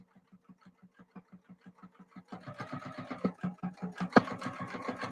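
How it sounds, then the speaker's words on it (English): A sewing machine stitches a handmade key fob, starting with slow, evenly spaced thumps and then running faster and denser with a busier, rattling whir, close and fairly quiet, with no talk. "I'm sewing slow because the vibration of this machine will knock my"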